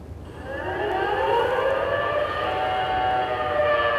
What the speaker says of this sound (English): The second sound between 1911 and 1936 was an air siren.